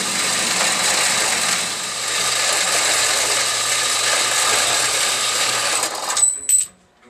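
A saw blade cuts through a metal workpiece clamped in a vise, a steady loud grinding whine for several seconds that ends abruptly with a few clanks as the cut finishes.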